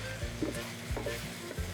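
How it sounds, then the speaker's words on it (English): Haschee, a German meat sauce with white wine, gets stirred in a pan, a low bubbling sizzle with a few soft rhythmic scrapes of the spoon, close and quiet. "Stir it again."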